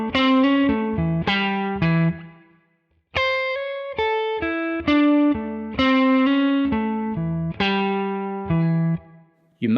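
A distorted electric guitar plays a blues lick over the 1 chord in three sustained phrases of clear, picked notes, with a short silent gap after the first phrase and no talking.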